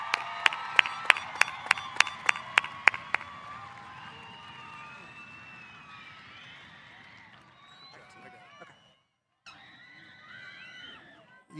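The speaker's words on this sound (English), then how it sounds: "Let's give the class of 2026 another well-deserved round of applause" An audience at a 2026 high school commencement gives a round of applause with sharp rhythmic claps and cheers. The applause fades into a murmuring crowd with scattered whistles and shouts, then a brief silence.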